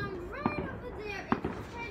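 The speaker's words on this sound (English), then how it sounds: "You can't really see them, but you can hear the fireworks." New Year's Eve fireworks pop and crack in two short bursts, a second apart, at a distance beneath children's voices and chatter nearby.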